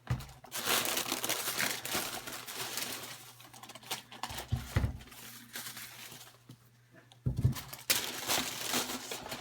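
Tissue paper crinkles and rustles inside an Air Jordan 11 72-10 shoe box, with broadband crackling bursts that come and go over several seconds at close range and no talking.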